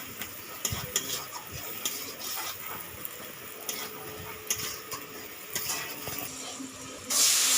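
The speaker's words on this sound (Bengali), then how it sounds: "এর মধ্যে হলুদ গুঁড়ো, লঙ্কার গুঁড়ো দিয়ে দিচ্ছি। ভালো করে নাড়িয়ে নেব।" Turmeric and chilli powder are stirred in hot oil in a frying pan for a village-style koi fish curry. Scraping spoon strokes sound over a soft sizzle, close by, and a louder hiss rises at the very end.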